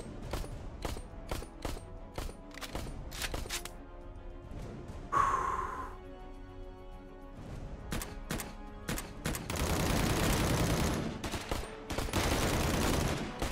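Gunfire in the PSVR2 game Cactus Cowboy: Plants at War, many sharp shots in irregular bursts with a brief whoosh in between, then denser crackling volleys near the end, close and loud.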